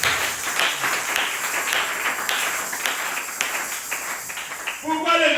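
A church congregation at a night prayer vigil applauds, a dense, steady wash of many hands clapping that continues throughout, with voices mixed into the crowd noise.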